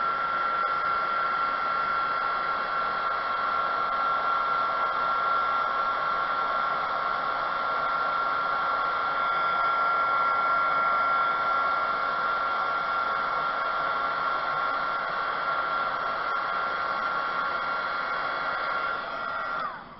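A heat gun melting embossing powder on paper beads gives a steady, close blowing whir with a faint tonal hum. It runs unbroken for about twenty seconds with no talking.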